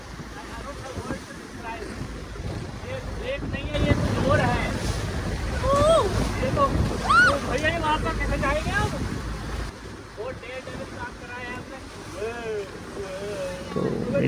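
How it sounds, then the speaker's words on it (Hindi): A small boat rocks on a volcanic crater lake in high waves, with steady wind and water rush, splashing and motor drone throughout, while several people talk and call out over the noise. "बट लहरें जो थी वो काफ़ी बड़ी ऊंची हो रही थी, जिससे कि बोट डांवाडोल हो रही थी बार बार।"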